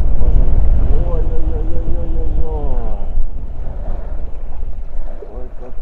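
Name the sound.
strong wind by the water while fishing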